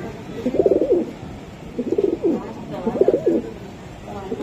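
Racing pigeons coo close by in three rhythmic, throaty bursts about a second apart, clear and fairly loud with no talking over them.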